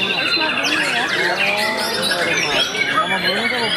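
A murai batu (white-rumped shama) sings continuously at a songbird contest, rapid varied chirps, whistles and trills close and loud, with other birds and crowd noise mixed in behind.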